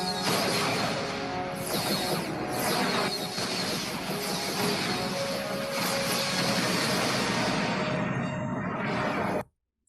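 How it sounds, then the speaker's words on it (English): Dense, continuous space battle sound effects with crashing blasts and roaring engine-like sweeps, loud and sustained throughout before cutting off abruptly at the end. "what would the space battle sound like?"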